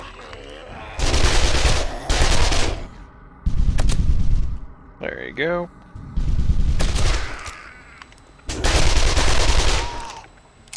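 Bursts of rapid M5 submachine gun fire from 7 Days To Die, loud and close, come in several volleys with pauses as zombies are shot, and a voice speaks briefly between bursts.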